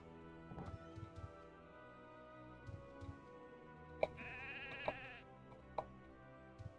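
Sheep bleat several times in the Ultima Online game, with short repeated calls and light clip-clop steps over a quiet background; one brighter, longer bleat stands out near the middle.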